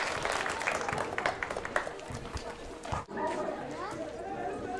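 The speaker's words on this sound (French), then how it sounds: "Vamos a recibir con fuerte aplauso." Applause breaks out to welcome the director of an educational institution at a school ceremony, a dense clatter of clapping mixed with crowd chatter and voices, with a brief dip near the end before it carries on.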